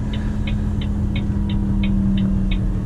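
A Volvo FM 460 truck pulling a trailer on a snowy road with the engine brake engaged: a steady, close, low engine drone with a faint regular ticking repeating about three times a second.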